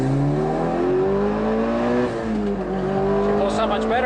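A Mitsubishi Evo 9 fitted with a small turbo pulls hard from inside the cabin, its engine note climbing steadily through a gear before a shift and another rising pull, with a voice speaking briefly over it.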